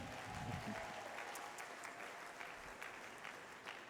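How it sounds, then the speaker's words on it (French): A church congregation at a Sunday service claps in a soft, sustained round of applause that holds steady throughout, heard faint and at a distance. "Applaudis pour toi-même"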